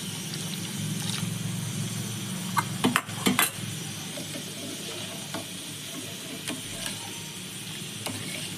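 A spoon clinks and scrapes inside a pan as custard mixture is poured into sugared milk and stirred, with a faint simmering hiss underneath and a few sharper metallic taps.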